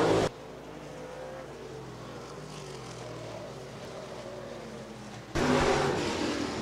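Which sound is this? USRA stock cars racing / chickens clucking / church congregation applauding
USRA stock cars racing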